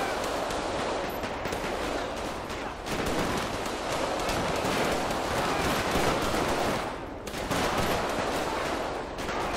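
Rapid gunfire in GTA 5 during a police gang-unit patrol, with dense, continuous bursts of shots that stay loud and close for nearly the whole stretch and ease off briefly twice.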